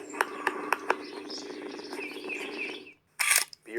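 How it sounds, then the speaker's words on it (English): Birds chirp in the morning outside a home in North St. Louis County, giving several sharp, evenly spaced calls and softer twittering over a low background hum, then a louder burst of chirping near the end. "Beyond the birds chirping,"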